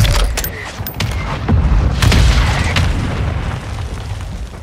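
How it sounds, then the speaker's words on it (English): An in-game mortar strike lands in a shooter match as a cluster of deep, loud booms and rolling blasts. The close rumbling runs for several seconds. "Mortar strike. Strike on the way."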